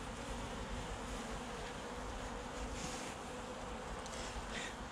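Close, unbroken droning of a honeybee colony at an open hive in a bee garden, a thick steady buzz of many insects at constant loudness, no speech.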